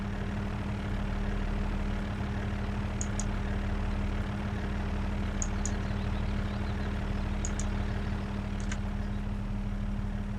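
A tractor engine idles steadily in a farming simulation game, a low constant drone with faint brief clicks over it and no talk.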